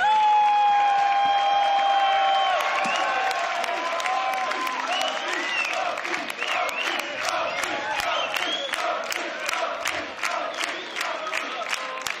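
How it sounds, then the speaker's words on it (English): Large crowd at the 2018 Grand Beatbox Battle final cheers, whoops and applauds loudly, a dense sustained roar with shouts on top that settles into steady clapping. "Make some noise for CODFISH from Australia, the 2018 Grand Beatbox Battle Champion Solo"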